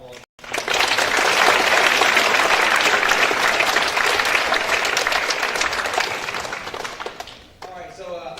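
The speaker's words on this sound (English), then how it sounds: "let's have one more thank you round of applause" An audience in a school chapel gives a loud, sustained round of applause lasting several seconds before tapering off, with a voice speaking briefly at the end.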